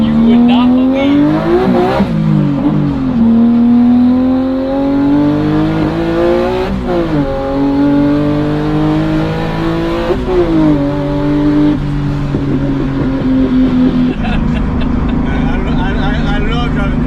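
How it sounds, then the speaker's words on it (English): A turbocharged BMW E46 M3 revs hard through repeated acceleration pulls, its engine note climbing and dropping with each gear change, loud and close throughout, with a voice cheering over the roar. "I love driving this car."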